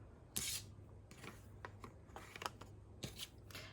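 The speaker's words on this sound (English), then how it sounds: "I'm just going to trim any excesses away while I do that" Scissors snipping excess washi tape off a paper gift tag made from packaging, a few quiet crisp cuts with light paper rustling and handling close by, no talking.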